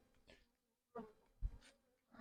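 Honey bees buzz around an opened hive during queen introduction. Several short, faint buzzing bursts pass close by with quiet gaps between them.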